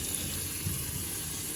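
Low-pressure water rinses a Nissan cold air intake filter (AirAid or K&N type) from the inside out, giving a steady close hiss and splash that runs continuously with no talk.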